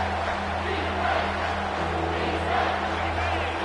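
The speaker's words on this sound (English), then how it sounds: "The crowd getting behind this defense as they try to get a stop in the red zone" Stadium crowd in College Football 25 roaring steadily for the defense in the red zone, a broad continuous wash of cheering with a low steady hum beneath.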